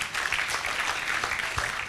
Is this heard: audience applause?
yes